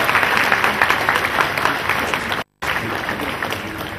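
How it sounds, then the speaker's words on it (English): Audience at an association induction ceremony giving continuous applause, a dense loud patter of many hands with crowd murmur. It cuts out for a brief moment and then resumes. "Let's clap for Harley."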